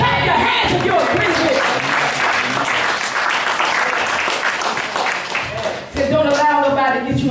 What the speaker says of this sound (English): Clap your hands if you agree.